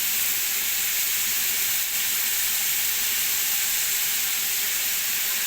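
Onions and green chillies frying in hot oil, giving a loud, steady, even sizzle that holds for the whole stretch with no voices over it.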